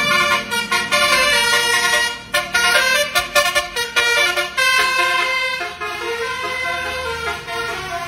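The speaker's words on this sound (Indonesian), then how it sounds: "kali ini ada bus Sinar Jaya teman-teman" Sinar Jaya bus sounds its horn while passing, a loud, musical multi-tone horn that blares in bursts and rapid stuttering pulses, then holds longer sustained tones as it goes by.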